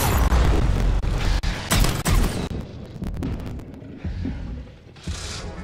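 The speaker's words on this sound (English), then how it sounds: "Frag grenade." Frag grenade exploding in the video game Mass Effect 3, a loud booming blast amid gunfire and battle noise that trails off into scattered debris and quieter effects.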